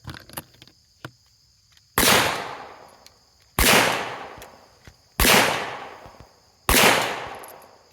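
A revolver fires during shooting practice: four loud, evenly spaced gunshots about one and a half seconds apart, each a sharp crack followed by a decaying outdoor echo, with a few small clicks before the first shot.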